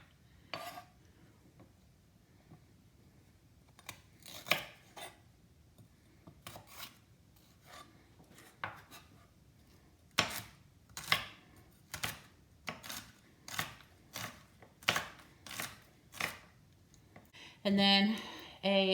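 Knife chopping celery on a cutting board: a series of sharp, distinct knife strikes at irregular spacing, growing more frequent toward the end, with faint background and a brief clatter at the close.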